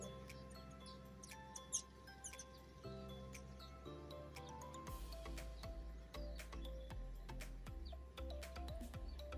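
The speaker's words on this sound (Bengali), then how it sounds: "পাখির কিচিরমিচির শব্দ" Small birds chirp and twitter in a chorus of short, high calls on a cool morning outdoors, with a steady low rumble of background noise underneath as someone walks.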